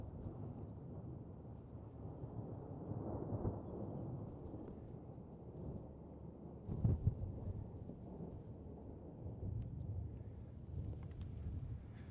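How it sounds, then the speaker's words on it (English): Thunder rumbles outdoors during a supercell thunderstorm in Iowa: a low, continuous rolling roar with one sharper, louder crack partway through, and no voices. "let's go outside and hear the thunder"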